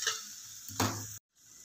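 Vegetables with turmeric roast briefly in hot oil for pav bhaji. A short close sizzle comes with a scrape of stirring, and then it cuts to a moment of silence.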